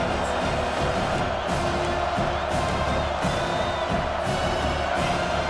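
A stadium crowd in EA Sports College Football 25 roars behind the defense on third down, a dense, steady wall of cheering with scattered whoops rising and falling throughout.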